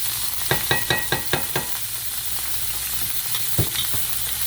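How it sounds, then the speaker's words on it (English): Onions and garlic sautéing in canola oil in a hot pan, a steady bright sizzle under a quick series of sharp spoon or spatula scrapes and taps, then another knock later. "I'm gonna saute my onions and garlic."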